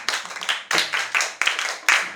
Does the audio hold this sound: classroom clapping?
yes